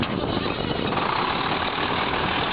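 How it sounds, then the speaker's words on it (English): A Cummins diesel engine in a 1999 IHC 8100 day cab tractor runs at a steady, rough idle, loud and close, with a constant low rumble and no voices. "Listen to that motor run."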